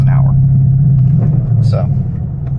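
Deep, steady engine rumble from a 2013 Ford Mustang GT pulling in first gear at low revs and low speed, close and loud throughout.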